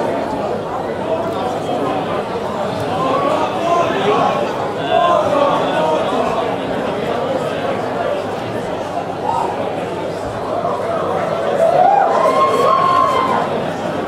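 Boxing crowd at a live bout cheers and chatters in a dense, sustained roar, swelling near the end with whoops, with a commentator talking over it.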